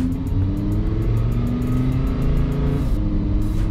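A Lamborghini Huracan engine in sport mode holds a steady, loud, close drone with rising and falling rev tones over a few seconds, without speech.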